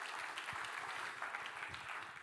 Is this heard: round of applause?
yes